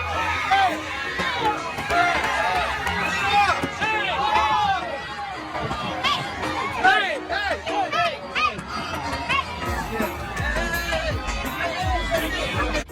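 Basketball fans jostle and scuffle in an arena crowd over Steph Curry's shoes, a loud continuous hubbub of shouting, chatter and cheering with overlapping excited voices throughout.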